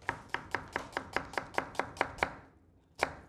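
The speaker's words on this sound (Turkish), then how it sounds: "şimdi soğanımızı ince ince doğrayalım" A knife chops an onion into fine dice on a board in an Anatolian home kitchen: about eleven crisp, evenly spaced strikes, a short pause, then one last cut, close and clear.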